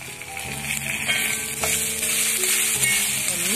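A ground mix of cumin, green chili and coconut hits a hot pan for tender jackfruit thoran and sizzles loudly and steadily, with a few scrapes of stirring. No one speaks.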